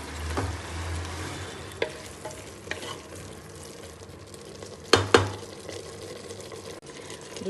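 Curry leaves go into a pan of frying mushroom biryani masala, which sizzles steadily under repeated stirring, with a few sharp spoon scrapes and taps against the pan.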